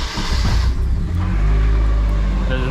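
A Nissan 240SX engine runs loud and close after an exhaust leak repair, a low, rumbling idle that swells with a short rev and then holds a steady drone.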